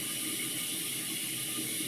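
Tap water pours into a film developing tank after a wetting agent is added, a steady, even rush and hiss at moderate level with no speech over it.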